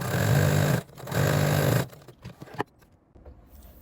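A sewing machine stitches a fabric bag lining with a 1 cm seam allowance, running in two steady bursts, then a few short bursts and clicks before going quiet.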